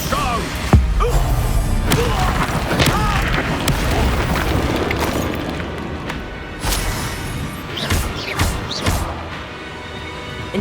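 An Expulso spell blast in Hogwarts Legacy on PS5: a deep booming explosion with crashing thuds, followed by further impacts and slams in a loud, busy combat scene.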